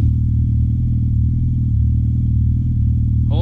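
A Ducati 1000cc V4 motorcycle engine idles close and loud with a deep, steady throb that holds without a clear rev, and a brief rising note comes right at the end.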